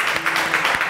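An audience in a TV studio applauds for institute staff, a dense, even patter of many hands clapping at steady loudness for the whole moment.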